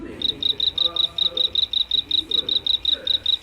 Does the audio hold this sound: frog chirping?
yes